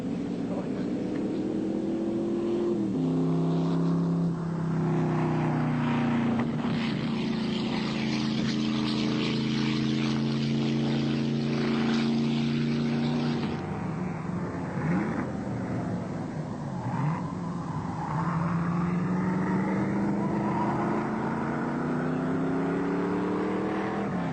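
An old Maserati drives past, its engine droning steadily and shifting pitch as it gears up and works hard on the road. The sound stays strong and fairly close, with a faint voice heard under the engine.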